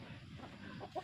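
A brief, soft cluck from a chicken in a small backyard flock that includes roosters, heard faintly close by for about a second.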